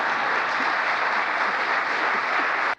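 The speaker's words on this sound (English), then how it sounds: "I think that's an applause line." A crowd at a political speech claps in a steady, dense burst of applause that fills the room evenly and then cuts off abruptly at the end, with no talking over it.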